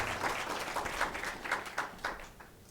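An audience at a formal medical equipment donation ceremony gives a round of applause, a steady wash of many hands clapping with some rhythmic beats, fairly soft and slightly distant.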